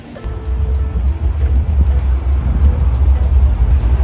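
Idling bus at a bus stop, a steady low engine rumble running close and continuous through the whole stretch, with light ticking and faint street noise on top and no one speaking.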